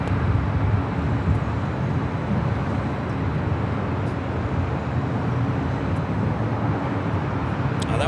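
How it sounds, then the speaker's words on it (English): Delta Airbus A319 jet at LAX, a loud steady broadband engine roar holding for several seconds, close and continuous, no talking. "That was a Delta A319 coming from Dallas, Fort Worth, Texas."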